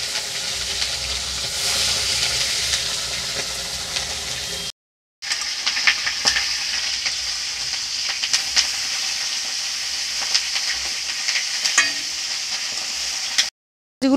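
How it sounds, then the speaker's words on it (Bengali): Fish coated in salt and turmeric fries in hot oil with a continuous loud sizzle and scattered pops and crackles, broken by two brief silent gaps. "আমি এখন তেল গরম হয়ে গেছে, ভেজে নেবো।"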